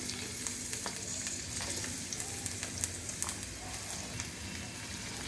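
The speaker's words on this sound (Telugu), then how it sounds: "పాన్ పెట్టుకొని ఆయిల్ పోసుకోవాలండి హాఫ్ స్పూన్ ధనియాలు కదా మూడు ఎండుమిర్చి కొంచెం ఉల్లిపాయలండి" Coriander seeds, three dried red chillies and onions fry in oil in a pan, crackling with a continuous sizzle broken by scattered sharp pops and clicks.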